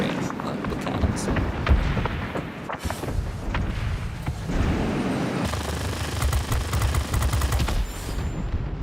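Aircraft cannons rattle in rapid bursts in the World of Warplanes game, aboard a Republic F-84G, the fire continuing over engine roar with someone talking throughout.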